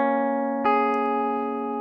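Audio loop slowed by time-stretching in Cubasis 3 with its pitch unchanged: a sustained tonal note with steady harmonics, then a sharp attack and a held tone continuing at the same pitch, clear and loud with no speech.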